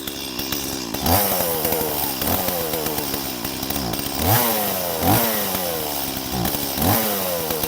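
German-made Stihl chainsaw idling and revving while it warms up, loud continuous motor drone with repeated rising throttle surges at a steady pace, close by and without speech.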